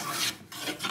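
A hand plane taking strokes along the edge of a wooden board as two boards are edge jointed, giving two close, continuous rasping shaves separated by a short pause, with no talk.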